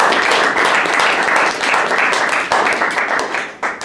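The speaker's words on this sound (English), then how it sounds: "So if we could have a warm round of applause for them." An audience at a school house debating final applauds the chair and judges with a warm, sustained round of close, dense clapping that slowly thins toward the end.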